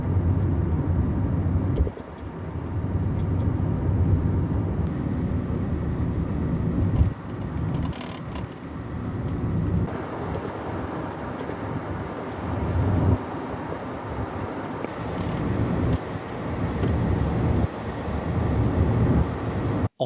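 Car engine noise heard from inside the cabin after sound deadening was fitted to the firewall, a steady low drone and rumble held for about twenty seconds with small swells in level and no talk.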